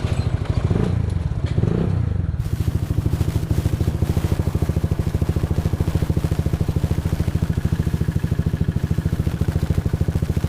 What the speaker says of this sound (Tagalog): Maingay sa motor ko.